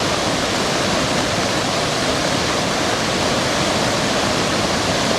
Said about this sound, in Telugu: జలపాతం పరవళ్లు తొక్కుతోంది